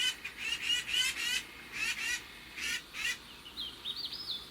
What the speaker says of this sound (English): There's a bird about 5 feet away.